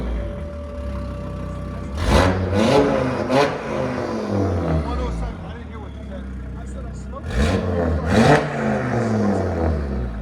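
A 2018 Audi RS3 with a 2.5-litre turbocharged five-cylinder, downpipes and an AWE Switchpath cat-back exhaust idles, then is revved twice in sharp blips, nearby, with people talking over it.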